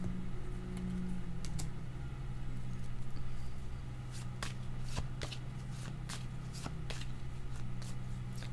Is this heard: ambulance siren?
no